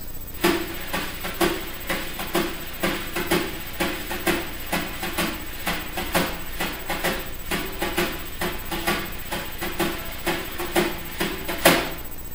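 Snare drum played lightly with jazz brushes in a steady, repeating bossa nova pattern, soft swishes and taps keeping an even groove throughout.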